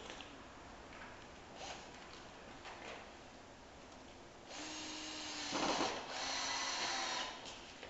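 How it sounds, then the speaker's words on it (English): Power drill driving two screws into a wooden acoustic panel, quiet handling taps at first, then a close whirring motor in two bursts, faint overall. "We're going to put two screws in the far side to hold it."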